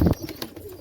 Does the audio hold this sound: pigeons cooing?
yes